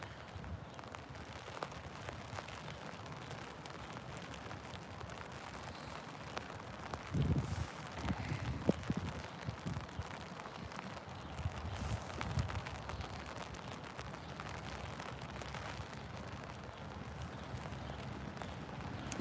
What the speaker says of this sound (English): we're getting moderate to heavy rain right now